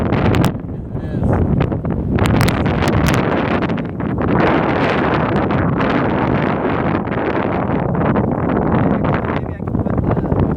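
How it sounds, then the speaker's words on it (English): Strong outdoor wind roars steadily across the microphone for the whole stretch, loud and gusting with rustling buffets, as rain threatens; voices are faintly present beneath the rumble. "It's too windy out here."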